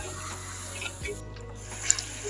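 Water is poured into a pan of fried onions while pangas fish bhuna is cooked in a home kitchen, giving a brief soft steady rush and hiss at low volume.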